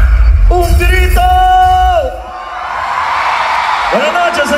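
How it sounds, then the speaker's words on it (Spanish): Loud yells and sustained whoops from a crowd at a live cumbia show in Plan de las Hayas, Veracruz, rising in a long shout, fading, then a fresh cry near the end, with an announcer's voice mixed in. "¡Un grito!"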